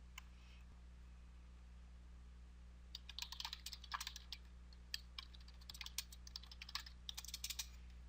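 Typing on a computer keyboard, quiet at first, then a run of light, irregular key clicks in short bursts over a steady low hum.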